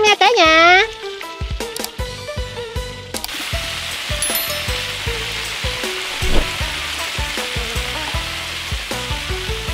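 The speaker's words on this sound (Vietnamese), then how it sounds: "Vịt ra chảo nè" Duck frying in a pan of hot fat sizzles steadily, with loud spattering, clattering and tonal beeps early on, then a continuous hiss with utensil knocks and stirring.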